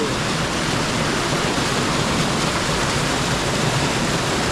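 A mountain waterfall plunging into a pool at a high alpine lake, a loud, steady, broadband rush of falling water, continuous and close with no pauses.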